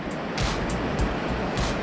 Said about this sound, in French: La rivière d'Ain qui va se jeter au port de la Cesse